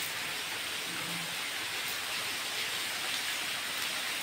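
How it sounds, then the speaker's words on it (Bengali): Sudden rain falls in a steady, even hiss of moderate loudness, with no voices over it. "কালো মেঘ করে বৃষ্টি শুরু হয়ে গেল।"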